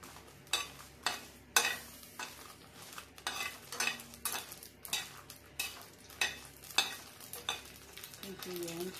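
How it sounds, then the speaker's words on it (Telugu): Dried red chillies fry in a pan for a Malabar spinach chutney, a utensil scraping and stirring in regular strokes over a faint, steady sizzle. "కొంచెం వేయించుకోవాలి. ఎండుమిరపకాయలు వేగిపోయినాయి"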